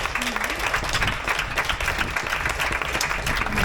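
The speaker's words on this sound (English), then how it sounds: "I want to have a big applause for Jurgen and Sonja." Audience applause for two presenters at a circus talks session: dense, steady clapping from a crowd, close and loud throughout, with faint voices mixed in.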